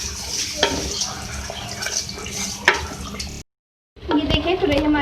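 Beef and ridge gourd (turai gosht) cooking in a pot, with stirring, scraping and a soft simmering sizzle close by. The sound breaks off into a brief silence and then resumes.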